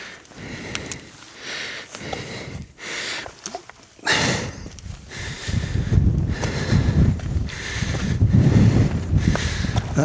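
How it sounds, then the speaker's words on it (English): Strong gusting wind buffets the microphone near the top of Lord's Rake, with loud rough roaring bursts that come and go, louder in the second half, and no clear speech. "Oh yes, that wind's strong."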